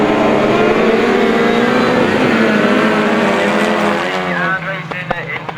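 Autograss race cars on a dirt track at St Neots roar past close and loud, their engines droning and shifting pitch as a commentator talks over them.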